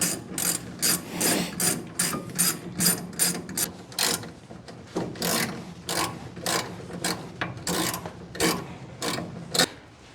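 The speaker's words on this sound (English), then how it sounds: "Now we need to torque down those bolts to 40 foot-pounds." Ratchet wrench clicking in short bursts while torquing front brake bolts on a Mustang during a disc brake conversion, close and crisp, with rhythmic ratcheting strokes and brief pauses between.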